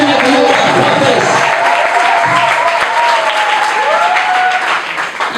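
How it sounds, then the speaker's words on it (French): Wedding guests break into loud, sustained applause, a dense wash of clapping from a crowd indoors that continues throughout, with a voice faintly audible beneath it. "Applaudissons très fort pour lui."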